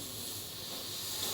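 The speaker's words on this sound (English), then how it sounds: "Breathe in" A deep breath drawn in during a yoga breathing exercise, heard as a steady, soft, airy hiss that stays even throughout, close and alone without talk.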